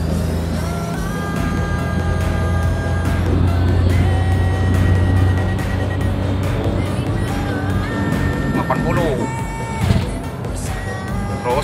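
A Toyota/Daihatsu Xenia 1.0 accelerates in third gear on a road, its steady engine drone rising in pitch as the revs climb, with road and cabin noise around it and brief clunks near the end.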